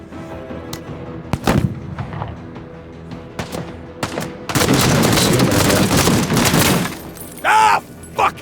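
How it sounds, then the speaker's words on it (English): Shotgun blasts in a pirate-fighting infantry shooter game, with several sharp bursts of gunfire that build into a dense, sustained stretch of shooting, followed by a couple of loud impacts and short pauses. "now let's shotgun these guys"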